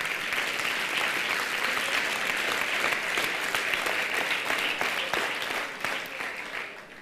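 An audience claps steadily in a hall, a dense, continuous patter of many hands that holds for several seconds and gradually thins out toward the end.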